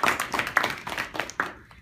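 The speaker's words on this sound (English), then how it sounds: "I think we should give him a round of applause" A small group at a weekly club meeting claps for a member, a thin, uneven patter of a few hands close by, fading out after under two seconds.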